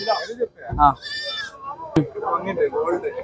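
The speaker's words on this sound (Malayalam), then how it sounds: "ചെമ്മരി ഒരു ഉമ്മ ഒരു കുട്ടിയുണ്ട്, നല്ലൊരു പെടക്കുട്ടി." A ewe and her lamb bleat at a livestock market, with a few short, close bleats heard among people talking nearby.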